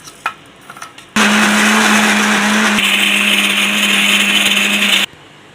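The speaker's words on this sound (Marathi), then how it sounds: "इथे मी मिक्सरमध्ये हे वाटून घेतलेले आहेत आंबे" A kitchen mixer grinder whirs loudly and steadily for about four seconds as it blends mangoes with sugar for mango lassi, stopping abruptly, with only faint clatter before it starts.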